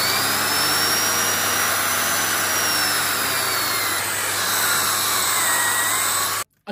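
A Hoover HL4 Anti Twist Pets upright vacuum cleaner runs with its turbo brush bar, a loud steady whine with high airflow hiss, held constantly close up before cutting off abruptly at the end.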